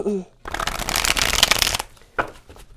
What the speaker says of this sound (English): Little shuffle here, guys.